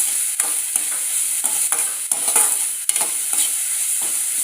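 Beetroot chutney ingredients sizzle in a hot pan while a spoon stirs them, with repeated scraping strokes at an irregular rhythm over a steady close frying hiss.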